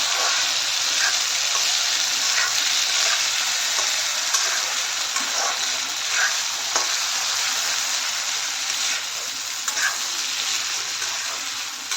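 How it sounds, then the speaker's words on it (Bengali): Rice fries steadily in a hot iron wok, giving a loud, continuous sizzle with occasional stirring scrapes and no voices. "চালটাকে খুব সুন্দর করে একটু ভেজে নিতে হবে।"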